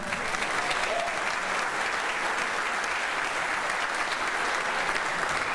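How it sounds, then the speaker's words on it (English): Steady, dense applause from an audience at a high school senior athletic awards ceremony, sustained and even throughout without a break. "Please give me another round of applause celebrating our boys soccer state championship team."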